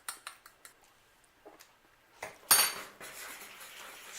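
A fork stirring sugars into brownie batter, with light metallic clinks and taps at the start, then a louder scraping clatter against the bowl that trails into a soft, continuous stir.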